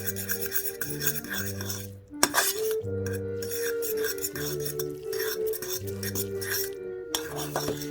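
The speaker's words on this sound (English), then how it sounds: "And we stir." A utensil stirs Indomie Mi Goreng instant noodles in a pan with steady scraping and rasping strokes, broken by a single metallic clink, over a background of sizzling and music.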